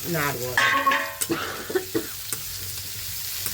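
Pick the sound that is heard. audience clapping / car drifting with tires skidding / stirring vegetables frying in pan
stirring vegetables frying in pan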